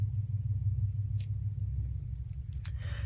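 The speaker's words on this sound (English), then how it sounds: "Another loud car at a very particular point in the conversation" A loud car passing outside, a steady low engine rumble that holds throughout, with a few faint higher clicks and rustles on top and no voices.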